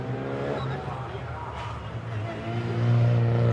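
Renault Clio Cup race cars on a warm-up lap at Monza, engines droning steadily and revving higher toward the end, with a commentator talking over the engine noise throughout.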